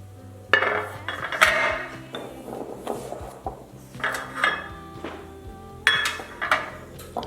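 Cupcake batter scooped into a muffin tin with an ice cream scoop, giving irregular metallic clinks and knocks with soft scraping between them, close and clear.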